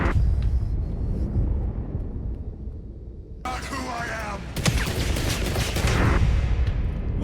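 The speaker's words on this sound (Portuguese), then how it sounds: "Os tiros estão atravessando a parede." Gunfire rips through a wall in the 007 First Light video game, dense bursts of shots and impacts cutting over a dull, rumbling backdrop, with loud clusters near the middle and end.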